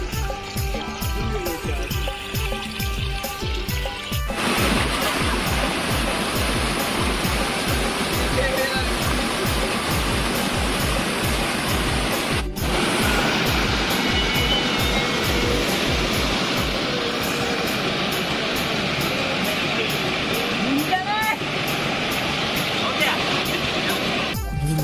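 Steady broadband rushing of water pours out continuously, loud and close, with faint voices now and then beneath the roar.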